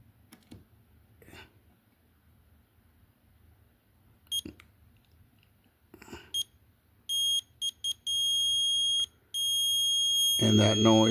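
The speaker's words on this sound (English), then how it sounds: "if we touch these two prongs together, they would beep" Continuity beeps from a multimeter testing a fuse: a few short high electronic tones, then a long sustained beep, close and loud, after quiet handling and probe clicks.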